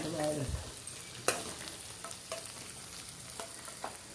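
Sautéing in a pan for a varaal fish curry, a quiet steady sizzle with a handful of sharp spatula scrapes and taps spread through, no voices.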